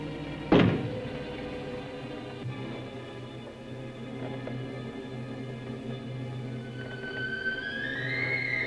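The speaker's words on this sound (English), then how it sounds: "Knock once if you hear me." A single knock from inside a closet in a black-and-white horror movie, one sharp thud near the start, then low sustained eerie music with a rising whine near the end.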